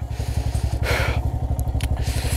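Motorcycle ridden on snow at high altitude, its engine thumping in a fast, steady close pulse while bursts of hissing scrape and spray from the slipping tyres cut in and out.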